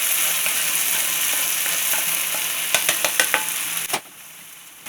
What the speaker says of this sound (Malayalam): നമ്മൾക്കിതിനെ ചൂടോടെ ഇതിലേക്ക് ഒഴിച്ചു കൊടുക്കാം